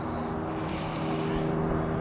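A Yanmar diesel engine on a cold water trailer jetter runs at a steady, close, droning idle, with a continuous low hum and constant loudness throughout.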